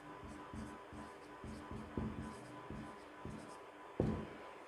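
Pen scratching across paper in a classroom lesson on writing an advertisement, with steady, rhythmic strokes and small taps, close and fairly quiet, including a sharper tap near the end.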